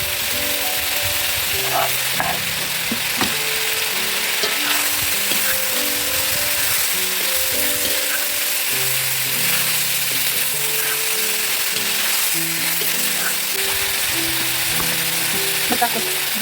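Ingredients for lagman sizzle steadily in a hot pan while being stirred, a continuous loud frying hiss with occasional scraping clicks and faint background music tones throughout.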